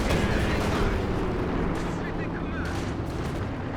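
Machine gun bursts, Molotov flames and artillery booms from a large Company of Heroes 2 battle rumble densely throughout, a dense wall of combat noise with someone commentating over it.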